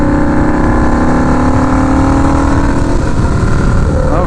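A turbocharged Harley-Davidson V-Rod motorcycle engine drones loud and close at a steady idle or cruise, its pitch wavering slightly, with the rumble dominating throughout and no clear speech over it.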